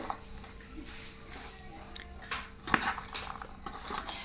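Kala chana chaat being mixed with lemon juice in a bowl, heard as soft intermittent clinks and scrapes of a spoon against the dish, quiet and close, growing a little busier toward the end.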